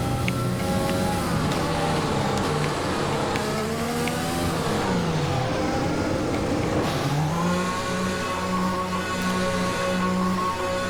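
Racing car engine in a French Grand Prix video game race, a steady, loud synthetic drone whose pitch rises and falls with gear changes throughout, playing alone without talk.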